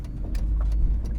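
A drift car's engine runs at low, uneven idle up close, a deep rumbling drone with a few brief louder bursts and no voices.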